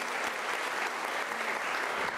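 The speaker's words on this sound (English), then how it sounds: "let's give Professor Munyai another thunderous round of applause" An audience at a Unisa spring graduation ceremony gives Professor Munyai a thick, continuous round of applause that stays steady throughout.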